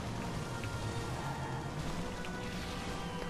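Rain falls in the vehicular combat game Twisted Metal: Black as a constant soft hiss of drops, steady and fairly faint throughout.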